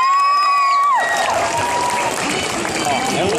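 Applause from a festival audience at the awards and closing of the 2015 Melbourne Korea Festival, a broad wash of clapping and crowd noise that takes over from a sustained musical tone after the first second and continues steadily.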